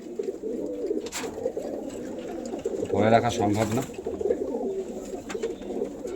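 Cooing from a pair of domestic pigeons kept at home for sale rolls on nearby throughout, swelling louder midway, while someone talks briefly over the birds.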